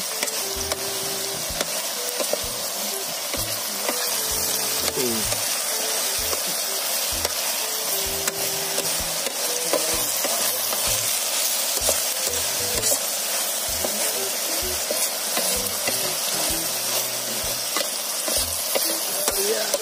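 Sautéed eggplant (ginisang talong) sizzles steadily in a pan while a utensil stirs and scrapes it in repeated strokes, loud and close throughout.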